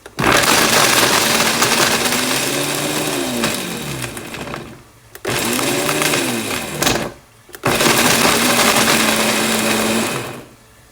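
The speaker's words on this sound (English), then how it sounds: "Don't put all of it in the blender at the same time" A blender whirs loudly and steadily while blending okra, its motor pitch wavering, stopping briefly twice before starting up again.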